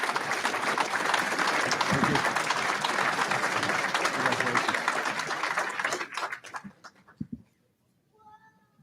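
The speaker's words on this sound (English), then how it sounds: "We have a nice round of applause for all of them." A crowd applauds graduating Boston Fire Department recruits at their graduation ceremony. The clapping is loud and sustained for about six seconds, then fades out, and faint cat meows follow.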